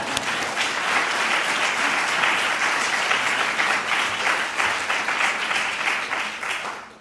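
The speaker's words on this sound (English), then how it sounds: "Can I get a round of applause for that?" An auditorium audience at a teaching fellows installation ceremony breaks into steady, full applause that fills the room for about seven seconds, with no voices over it, then fades off at the end.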